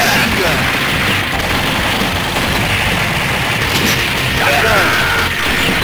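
Sustained, dense machine gun fire in the Metal Slug arcade game, loud and continuous with crashing explosions and game effects layered through the whole stretch.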